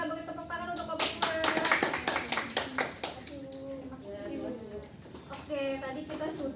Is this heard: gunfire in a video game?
no